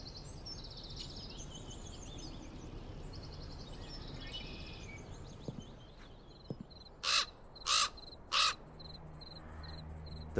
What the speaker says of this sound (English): The raven flew out of a crack in the rock.